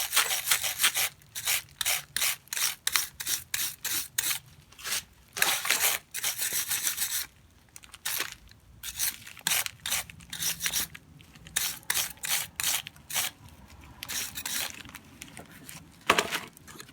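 Stiff brush scrubbing Kia Forte 2011 brake parts during a brake job, a run of quick, close, rasping strokes in irregular bursts with short pauses, fairly loud and with no talking.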